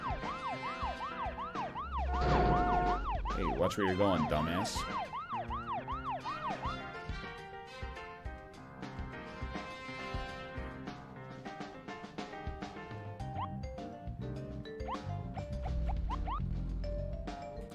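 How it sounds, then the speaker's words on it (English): Police car siren in the video game Deadly Premonition, a wailing up-and-down tone cycling loudly at the start alongside game music and a brief in-game voice line. "Well-known fact, siren fixes the frame rate."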